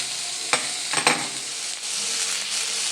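Crushed garlic, chili and onion fry in a pan for shegalachi bhaji, a steady loud sizzle broken by a few sharp scrapes of a spatula stirring near the start.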